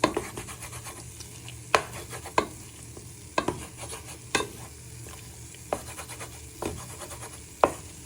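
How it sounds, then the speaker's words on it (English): A wooden spoon scraping and breaking up chicken pieces frying in a pan: soft, steady sizzling underneath, with intermittent sharp scrapes and taps of the spoon against the pan, fairly quiet and close. "Just do this for a few minutes, breaking them up with the wooden spoon."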